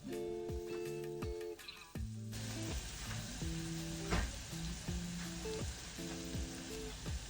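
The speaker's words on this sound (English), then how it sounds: "When the butter has melted, I'm going to add some garlic and I'm going to cook that for 2 minutes." Garlic sizzling in melted butter with salt and chilies in a pan, a faint, steady frying hiss that runs under intermittent background music.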